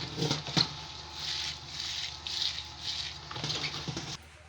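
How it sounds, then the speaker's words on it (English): Water sloshes and trickles steadily while soaked beans are sieved by hand to wash off their skins, a soft continuous splashing with a couple of sharper knocks. "This is how you sieve off the skin."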